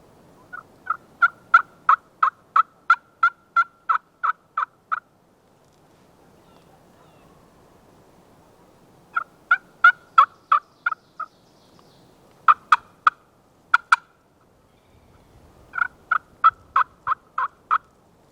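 A wild turkey gobbling far off in a snowy New York landscape, with repeated bursts of rapid, rhythmic gobbles separated by quiet pauses, faint but clear against still air.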